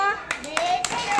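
Children clap their hands at a school classroom activity day, a few short sharp claps breaking over a sustained adult voice that keeps talking throughout.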